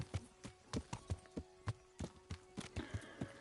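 Horse hooves clip-clop at a steady walking rhythm in Kingdom Come: Deliverance, a dozen or so distinct close hoofbeats with no talking over them.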